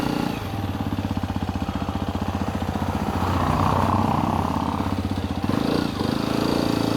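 A motorcycle engine runs steadily nearby as the bike is turned around on a road, a continuous throbbing drone that swells slightly mid-way, then settles back.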